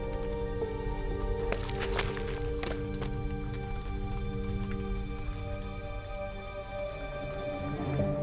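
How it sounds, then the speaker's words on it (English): Heavy rain in the video game Silver Palace, a dense steady patter of drops on surfaces with a few sharper splashes, under a sustained tonal music bed. "Now it's raining so hard."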